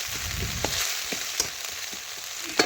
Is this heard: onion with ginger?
yes